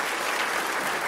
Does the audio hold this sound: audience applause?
yes